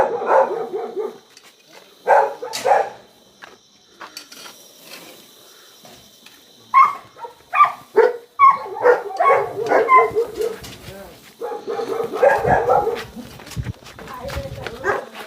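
A dog at a home barks in loud, repeated bursts with short gaps, some yelps and whimpers among them, while people talk nearby.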